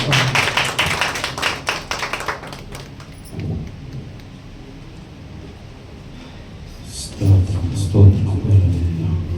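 A church congregation at a Friday worship gathering in Kuwait claps to welcome the pastor, a dense burst of applause that fades after about three seconds, followed by quieter room noise and talk.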